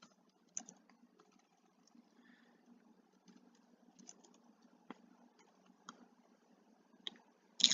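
Light clicks and taps of typing on a computer keyboard, sparse and irregular keystrokes close by in an otherwise quiet room, ending with a quick cluster of louder presses.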